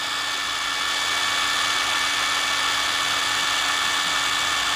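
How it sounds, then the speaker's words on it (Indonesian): A DOLIZ BD550 impact wrench runs steadily at higher RPM in tightening mode, giving a continuous loud whirring drone with no pauses and no talk. "menggunakan impact wrench ini untuk penyekrupan"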